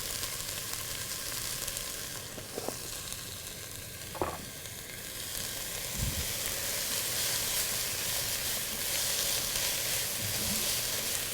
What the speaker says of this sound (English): I'm going to sweat this out just a little bit, just so the vegetables get tender.